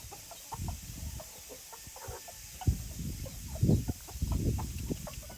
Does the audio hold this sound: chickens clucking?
yes